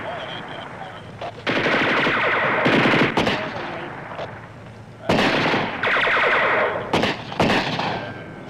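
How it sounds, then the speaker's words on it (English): Several bursts of rapid gunfire crack out close by, some in quick volleys and others single, with short pauses of background noise between them. "I just heard those gunshots"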